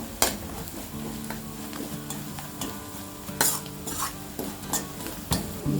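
A spice mix of amchur, garam masala, turmeric and red chilli powder stirred in a pan for a soya chunks curry, with a continuous scraping, clattering rhythm of spoon against metal over a light sizzle and no speech.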